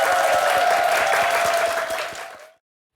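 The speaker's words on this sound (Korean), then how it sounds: "선호빈 감독님께 큰 박수 부탁드리겠습니다" A studio audience on a Korean morning TV talk show applauds a guest documentary director, a dense, loud burst of clapping that holds steady for over two seconds before stopping abruptly, with a faint tone running beneath it.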